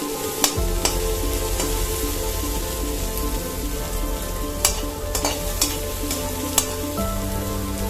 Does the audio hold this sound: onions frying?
yes